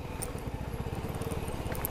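A motorcycle engine on a mountain road around Manungkot chugs in a steady, low pulsing rhythm, fairly faint and continuous throughout.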